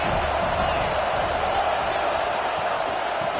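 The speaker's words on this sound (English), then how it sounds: "This crowd trying to make life miserable for this offense." Stadium crowd in the College Football 26 video game at an Egg Bowl matchup with Mississippi State, a dense continuous roar of many voices filling the whole stretch, steady and loud with no clear breaks.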